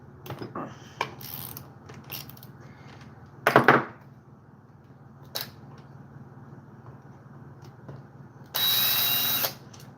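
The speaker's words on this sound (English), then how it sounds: "now it is time to crack the screws loose at the top" Screws being cracked loose at the top of a chainsaw under restoration, heard as scattered close mechanical clicks and two louder ratcheting, grinding bursts.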